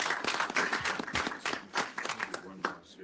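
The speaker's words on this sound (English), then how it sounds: "Yes, please, applause is warranted." Board meeting attendees applauding indoors, a lively burst of many hands clapping that thins out and fades over about three seconds.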